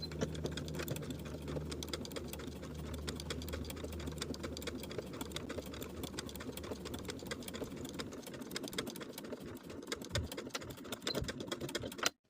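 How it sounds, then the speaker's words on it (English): A sewing machine runs steadily and close up, edge stitching a linen shirt placket from top to bottom, a continuous whirring hum with a rapid needle rhythm that holds for about twelve seconds before stopping abruptly. "We're going to edge stitch this piece from top to bottom with a 1/16 seam allowance"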